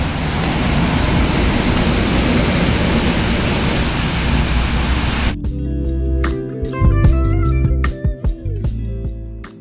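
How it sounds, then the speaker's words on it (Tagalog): Heavy rain drums as a broadband roar for about five seconds during a drive toward Sagada, Mountain Province, then cuts off abruptly, leaving quieter tonal sounds and a few sharp knocks. "hindi pa rin tumitigil yung ulan."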